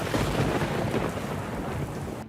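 Heavy monsoon rain pours steadily with a deep rumble of thunder underneath during flooding in Jharkhand, a dense, continuous roar that fills the whole short stretch with no voices.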